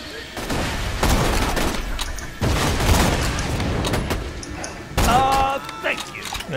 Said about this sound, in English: Ooh, grenade coming.